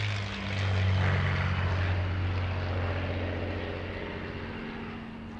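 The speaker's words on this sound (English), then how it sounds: "And this is the legendary Spitfire." A Supermarine Spitfire fighter plane's propeller engine drones loud and steady at Duxford airstrip north of London, a deep throbbing roar that swells early and then slowly fades as the plane moves off.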